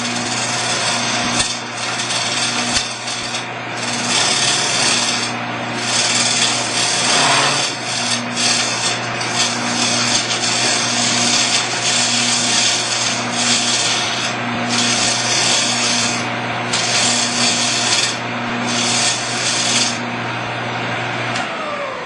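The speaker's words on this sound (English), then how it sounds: "these hollow form bowl turning things, which have nice little steel tips on here, they're kind of triangular" Hollow-form bowl turning tools with triangular steel tips cutting wood on a Shopsmith lathe, a loud continuous scraping rasp with pulsing surges, steady throughout with no talking.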